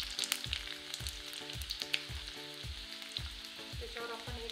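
Garlic sizzles in hot oil already seasoned with mustard and cumin seeds over a low flame, a continuous close frying hiss with regular soft thuds of stirring and no voices.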